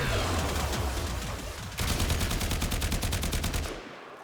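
Rapid gunfire rattles in the Warframe video game, a dense stream of shots that quickens into a fast, even automatic burst before stopping.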